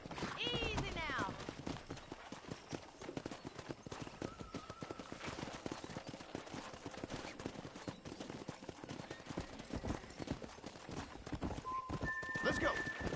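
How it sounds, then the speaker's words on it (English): Wild horses gallop in the Red Dead Redemption video game, a dense run of clip-clopping hooves throughout with a sharp neigh near the start, while someone talks over the hoofbeats. "there's a pack of wild horses nearby"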